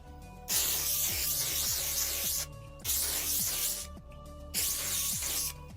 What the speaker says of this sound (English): Now we're gonna spritz with hairspray.